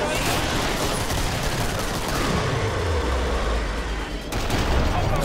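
Dense rapid gunfire rattles on continuously from the zombie shooter game Killing Floor, loud and close, with deep booming low rumble swelling underneath partway through.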